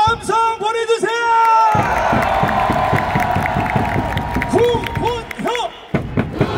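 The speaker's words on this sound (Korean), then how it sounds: "구본혁 선생에게 정말 따뜻하고 큰 함성 보내주세요!" Fans at a Korean preseason baseball game roar and clap for player Koo Bon-hyuk, a loud sustained crowd swell underneath an amplified announcer's voice, with sharp thumps and sung tones cutting through near the start and end.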